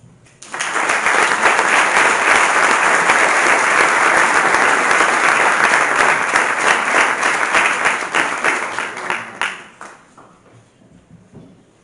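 Applause from the audience at a university inaugural theology lecture, loud and sustained for about nine seconds before tapering off, with no talking over it.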